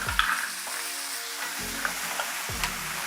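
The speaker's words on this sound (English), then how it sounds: "So we're gonna cook our lobster shells for 6-8 minutes on medium-low heat." Lobster shells and heads sizzle steadily in butter in a pan over medium-low heat, a constant close frying hiss with occasional low knocks of the pieces being stirred.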